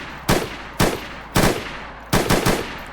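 Gunfire from a full-auto rifle in the video game DayZ: four sharp bursts, each a quick cluster of loud, close shots with short pauses between them.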